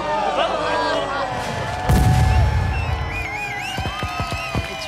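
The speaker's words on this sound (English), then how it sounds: "all the way to the end with a 21-gun salute" Cannon blasts of a 21-gun salute at a fireworks show: a deep, booming report with rumbling decay, then a few sharper, quicker bangs, set against a busy background with voices and other noise.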